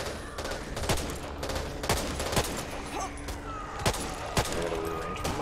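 Minigun and gunfire in the zombie shooter Back 4 Blood, sharp repeated bursts and single cracks punctuating a busy game backdrop, moderately loud with no talk over them.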